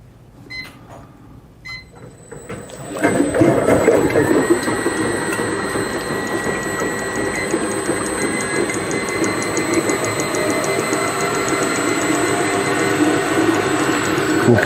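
A homemade ice cream maker switches on after a quiet start, and a loud, steady mechanical whir with gear-like rattling then runs continuously and close by.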